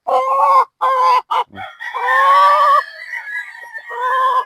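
A three-year-old sweater gamefowl rooster crows and clucks close by in loud, separate bursts, including one long drawn-out crow, with no talking.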